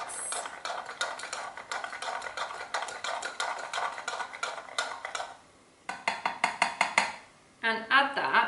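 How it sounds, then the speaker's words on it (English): A spoon stirs vegetables and salt in a bowl for a vegan couscous salad, giving close, rapid scraping clicks in steady bursts with brief pauses in between. "Give it a little mix"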